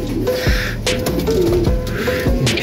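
Racing pigeons in a loft, with several soft, low coos and throaty calls repeating in loose bursts close by, over a steady background hiss.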